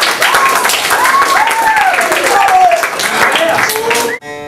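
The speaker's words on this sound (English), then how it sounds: "Please give me a warm round of applause" Audience applause and cheering after a country singer's song, loud dense clapping with whoops and shouts rising over it, cut off abruptly near the end.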